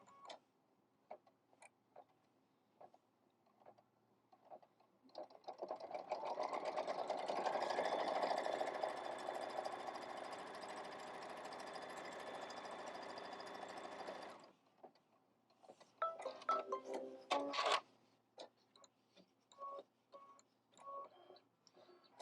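A sewing machine stitches a placement line through quilting fabric for a hexagon block, a steady mechanical whir running for about nine seconds, framed by scattered light ticks and clicks before and after.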